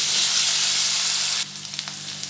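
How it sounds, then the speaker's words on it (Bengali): Potatoes seasoned with turmeric and salt fry in a pan with a loud, steady sizzle that drops abruptly to a quieter crackle partway through, with small stirring clicks after. "দিয়ে আমি আলুটা কষিয়ে নেব"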